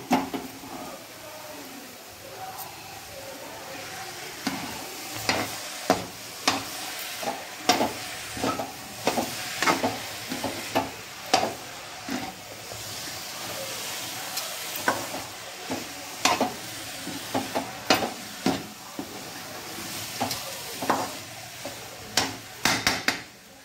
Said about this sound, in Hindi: अब मैं खोया मिक्स कर दूंगी।